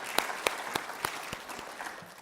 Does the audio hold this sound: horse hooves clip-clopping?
no